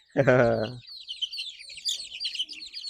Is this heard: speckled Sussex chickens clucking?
yes